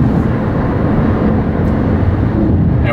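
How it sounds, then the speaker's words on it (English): Steady broadband road and tyre rumble inside a 2016 Toyota Prius driving in electric mode with the gas engine off, a continuous low roar throughout with no engine note. "There's no gas motor running. All we have is road noise."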